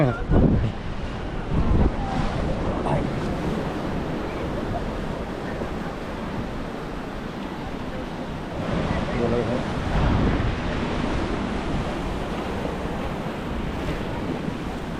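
Ocean waves roll in on Pondicherry beach, a broad continuous surf roar mixed with heavy wind buffeting the microphone, with surges around a few points and faint voices now and then.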